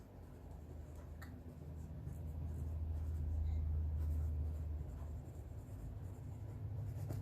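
Pen drawing a boundary line on paper for a math graph, a steady low scratching stroke that swells through the middle and fades slightly, with no talking.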